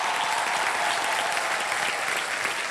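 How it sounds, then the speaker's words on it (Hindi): A game show studio audience on Wheel of Fortune claps loudly and continuously, a thick, sustained roar of applause with no break or voice on top. "बहुत जोरदार तालियां।"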